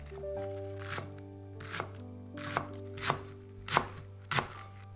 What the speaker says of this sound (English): Cut 3 spring onions.